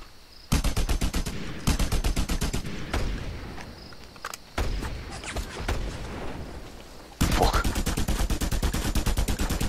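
Rapid bursts of assault rifle fire in Just Cause 2 multiplayer, loud and close, several long automatic strings with short gaps between them.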